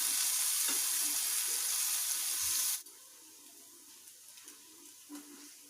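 Paneer sizzles in a hot frying pan, a bright loud crackle for about three seconds before dropping abruptly to a faint simmer with soft occasional pops, no talking.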